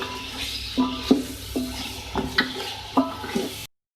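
Tomatoes and crushed red chili frying in a pan, with a soft sizzle under repeated metal spoon scrapes and clinks against the pan.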